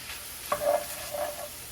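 Ingredients for a keto casserole being stirred together in a skillet, giving a short burst of soft scraping and light sizzling over a faint steady hiss.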